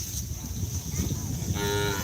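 Bulls of the Prabu Siliwangi karapan racing team low and moo in a continuous, fairly loud bellow over a busy outdoor background during training.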